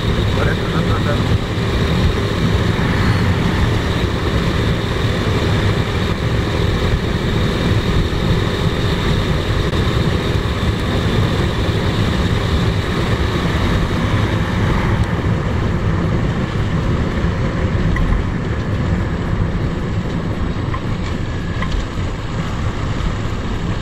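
A Daytona Force 200 motorcycle rides an off-road enduro trail, its engine a steady, close, droning hum with rushing wind noise that runs unbroken for the whole stretch.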